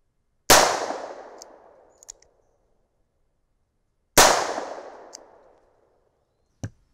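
Two loud close shotgun-style blasts from Speer shot capsules fired at a 25-foot target, each a sharp crack with a decaying tail, about four seconds apart, followed by a faint click.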